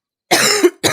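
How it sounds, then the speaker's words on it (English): A single person coughs hard and close, a short burst that swells to a harsh peak and then cuts off, with a second cough starting right after a brief pause. "Guys, I need to cough a little bit."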